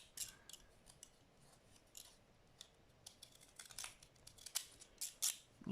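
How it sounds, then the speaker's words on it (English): Small decal scissors snip through paper while finishing a handmade journal, a series of quiet, close, crisp cuts in an irregular rhythm, with faint paper rustling in between. "Using my decal scissors I talked about in my last video."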